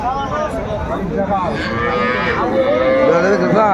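A cow, sold with her calf at the Aftabganj cattle market, lets out a loud, drawn-out moo close by. Her lowing rises and falls steadily over faint market background.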